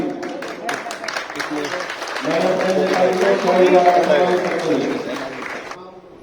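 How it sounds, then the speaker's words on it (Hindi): Scattered clapping from a women's gathering in Uchana, Haryana, mixes with a voice and music-like tones that swell in the middle before fading out abruptly. "जोरदार तालियों से स्वागत।"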